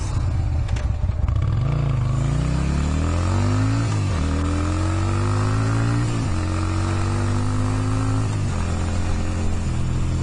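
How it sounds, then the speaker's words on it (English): A motorcycle engine drones close by while riding, climbing in pitch through repeated rising revs with brief dips at gear changes, a steady loud rumble with no talk. "I'm really surprised at how good this bike is."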